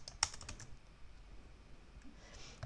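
Typing on a computer keyboard, a loose run of light close key clicks with one sharper tap near the start, quiet and unaccompanied by talk.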